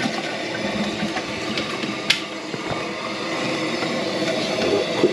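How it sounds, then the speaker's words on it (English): A bathroom toilet being flushed during a check for a water leak, giving a steady rushing and gurgling wash of water that runs throughout, with a sharp clunk near the middle. "let's give it a flush and see if we're all okay"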